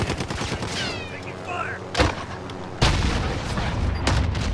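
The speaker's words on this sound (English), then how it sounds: "I'm firing!" Rapid bursts of gunfire from the Halo video game, loud and close: sharp repeated shots with a heavy blast near the middle and a dense volley toward the end, with a voice talking over part of it.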